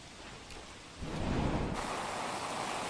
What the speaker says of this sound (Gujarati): સુરત શહેરમાં ધોધમાર વરસાદ વરસી રહ્યો છે